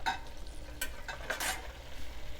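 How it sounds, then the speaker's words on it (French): A wooden spoon stirs wine into browned meat juices in a hot pan while making boeuf bourguignon, with soft scraping strokes and brief louder bursts of sizzle. "on mélange les sucs de la viande avec le vin"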